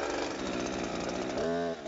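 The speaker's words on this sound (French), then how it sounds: "Voilà, tu peux scier, selon un angle de 45 à 60 degrés." A chainsaw felling a tree drones at a steady high rev, then its pitch shifts and dips near the end as the chain bites into the trunk; fairly quiet overall.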